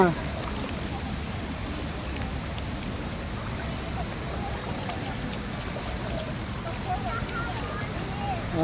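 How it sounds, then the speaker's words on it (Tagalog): Steady rain falls in a dense, even hiss with no breaks, close and fairly loud throughout. "Sarap ng ulan niya."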